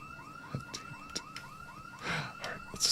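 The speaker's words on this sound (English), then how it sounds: "Just set the alarm off." A car alarm wails in Project Zomboid, a rapid repeating rising whoop heard fairly faint and distant, with a few sharp clicks and knocks over it.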